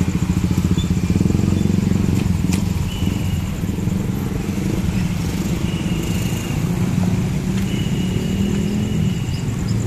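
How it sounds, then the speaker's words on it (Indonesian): Busy road at night with a steady stream of passing motorcycles and cars, a continuous loud engine rumble and clatter close by, with no break in the flow. "Rame banget di sini kendaraan yang lewat."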